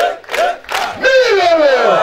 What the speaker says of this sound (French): Applaudissons! Applaudissons! Applaudissons!